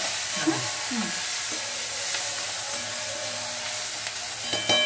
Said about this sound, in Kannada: ಈಗ ಇದು ಕರಿಬೇವು ಹಾಕ್ತೀನಿ.